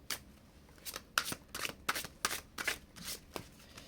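Tarot cards shuffled and drawn by hand: a quick run of crisp papery riffles and flicks in an uneven rhythm, close and fairly quiet, with no voice.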